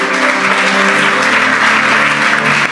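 Audience applause fills a church or revival meeting hall, a dense continuous wash of clapping and cheering at steady loudness throughout, with no clear break.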